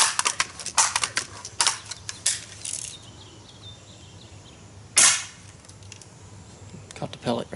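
Air pellet gun fired at a target wing in front of a backstop, giving several sharp cracks and snaps at irregular intervals, with one louder hit midway and quick bursts near the end.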